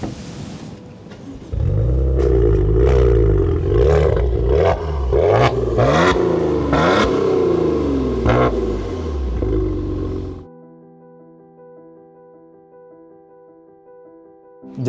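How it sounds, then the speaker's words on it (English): A Maserati Ghibli's 3-liter turbocharged V6 petrol engine revs hard in a series of loud, rising and falling blips, then cuts off and leaves a quieter steady tone. "This is one of the best V6 engines on the market, and it's 3-liter turbo petrol engine."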